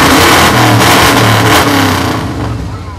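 A yellow truck's engine revs loudly at a homecoming parade in Wauseon, a steady throaty roar that swells and holds before easing off toward the end, with crowd noise around it.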